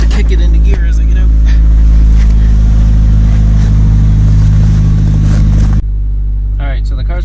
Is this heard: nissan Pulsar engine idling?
yes